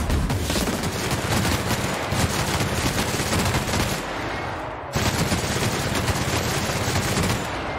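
Sustained rapid gunfire from a gun in the video game The Outer Worlds, a loud continuous automatic burst with a brief dip near the middle before the shooting resumes.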